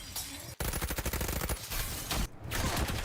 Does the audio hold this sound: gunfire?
yes